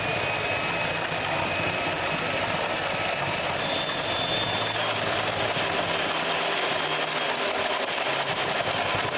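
Electric hand mixer whipping cream with powdered sugar, a loud steady motor whir running unbroken for the whole stretch with no talking.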